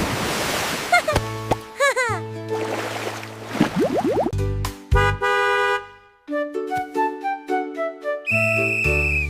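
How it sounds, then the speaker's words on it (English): A sequence of cartoonish sound effects, including whistle toots, slide whistles and horn-like honks, loud and close, following one another rapidly. "W is for whistle. Blow the whistle."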